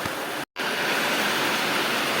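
Heavy rain falls as a loud, dense, even hiss that fills the space, broken by one very short dropout near the start.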